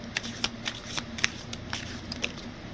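Tarot cards being shuffled and drawn during a reading: a run of crisp, papery slaps and clicks at an uneven pace, close and clear, over a soft steady hiss with no talk.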